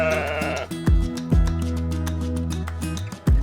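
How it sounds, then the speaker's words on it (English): A sheep bleats several times, each cry loud, close and quavering. Short gaps separate the calls, and no one speaks. "Sheep. Sheep."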